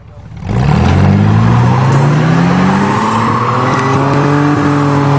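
A loaded 1992 Ford Taurus 3.0-liter and a 1999 Chevy Blazer 4.3 Vortec rev hard together in a tug of war, a loud close engine roar that jumps up at once and holds steady with rising pitch.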